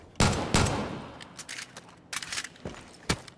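Gunshots in Far Cry 5 fired inside an enclosed sound volume, several sharp reports spaced irregularly, each followed by a short reverberant tail bouncing off the walls, along with lighter scuffs and clicks between shots.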